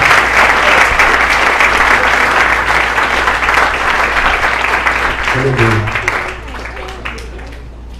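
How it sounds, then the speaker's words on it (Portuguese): Church congregation applauding during a worship service, a dense, loud, sustained wave of clapping that thins toward the end, with a voice calling out briefly over it. "Quem pode aplaudir o Senhor por causa disso? Aplauda o Senhor."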